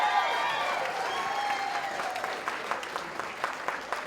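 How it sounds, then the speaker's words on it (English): Applause from an audience at an evening school-district gala as a guest comes onstage, a steady wash of clapping lasting several seconds with brighter individual claps emerging toward the end. "Yes, big round of applause,"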